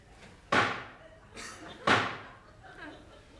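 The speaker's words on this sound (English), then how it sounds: "He always knocks twice." Two loud, sharp knocks on a door, roughly a second and a half apart, each striking hard and fading quickly, with quieter bumps between them.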